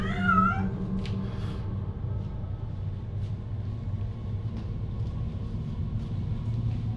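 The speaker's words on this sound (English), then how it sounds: "Stupid cat." A cat gives a short, clear meow right at the start, then falls quiet over a steady low rumble of background noise.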